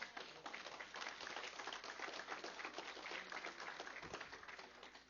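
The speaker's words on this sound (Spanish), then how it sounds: "Dele un aplauso al Señor, por favor." Congregation applauding in a church, a dense and even patter of many hands clapping together, sustained and soft at a distance with no talk over it.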